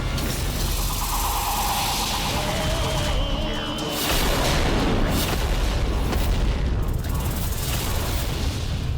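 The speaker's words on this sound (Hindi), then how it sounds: "ऐसा विनाशक विस्फोट इन देवियों को हताश करेगा" A destructive explosion effect in a mythological TV series: a continuous loud, rumbling boom with sweeping tonal swells, the blast surging again around the midpoint and roaring on steadily to the end.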